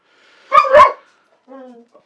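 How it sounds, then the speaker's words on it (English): An angry indoor dog gives two quick loud barks close together, then a softer, drawn-out whine-like bark a moment later, heard alone with no talk over it. "Dog's just angry at one of the cats for no reason."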